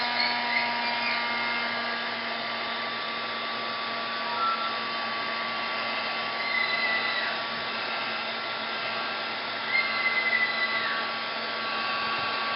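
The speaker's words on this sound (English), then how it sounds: "And now I start to emboss." A heat embossing tool runs steadily while embossing a card, a continuous close whirring blower hum with a faint tonal whine, alone and unbroken for the whole stretch.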